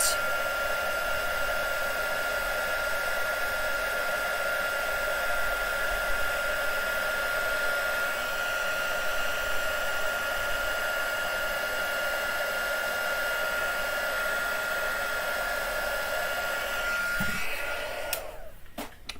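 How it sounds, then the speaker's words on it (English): A craft heat gun blowing hot air runs as a loud, steady whirring hiss close by for most of the stretch, then cuts off near the end with a brief clatter. "So I'm just going to heat my gun."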